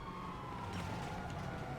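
Police sirens wail in the video game GTA 5, several overlapping, with a steady tone over continuous engine and traffic rumble, fairly loud and without speech.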